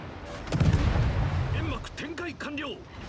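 The Harugumo destroyer's guns fire in a naval battle game, with booming rumbling salvos that roll into one another, followed by a voice talking over the lingering rumble.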